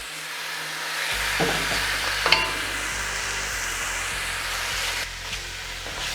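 Pork pieces sizzle and crackle steadily as they brown in a hot pan, a continuous close frying hiss with occasional stirring scrapes and no talk.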